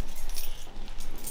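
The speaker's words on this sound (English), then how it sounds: "Got my keys." Keys jangling near a hearse before a drive to the park, a continuous busy metallic rattle and clinking, close and fairly loud, with no speech over it.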